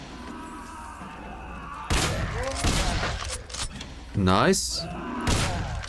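Gunshots in the Hyperviolent video game: a sudden loud blast after a quiet opening, followed by further clattering impacts and a burst near the end, with someone talking over them.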